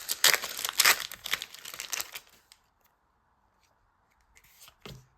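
Bent trading cards being pressed flat, a burst of crisp crinkling and papery snaps for about two seconds, then quiet with a final soft rustle and thump.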